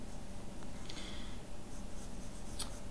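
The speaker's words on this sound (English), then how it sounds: "I'm drawing the basic shape right now" A pencil sketches a futuristic rifle on paper, giving a steady, close scratching of graphite strokes with a few brighter strokes standing out.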